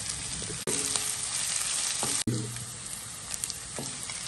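Ginger and garlic sauté in hot oil in a pan, a steady loud sizzle broken by a couple of abrupt cuts, with faint stirring scrapes along the way.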